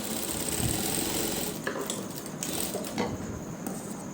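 Sewing machine stitching along both sides of doubled fabric for a neck design, running as a steady mechanical buzz before easing into lighter clicks and handling sounds.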